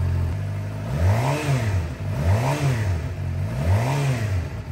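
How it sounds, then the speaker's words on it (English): A motorcycle engine revs in three repeated rising-and-falling surges during a battery test, close and loud, with no talking. "it is hard to keep the RPMs consistent with the motorcycle"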